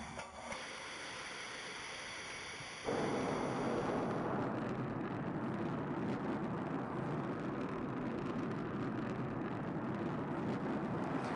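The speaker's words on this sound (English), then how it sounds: "You've never seen this before, a rocket blasting off" A rocket the size of a 12-story building lifts off and hovers: after a brief lower rumble, a loud, continuous broadband engine roar abruptly takes over and holds steady throughout.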